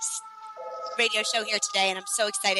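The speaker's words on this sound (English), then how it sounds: "If you hear a siren in the background, we're in New York City today, so bear with us." A steady siren tone holds faintly behind someone talking close to the microphone on a New York City street, the wail persisting under her speech throughout.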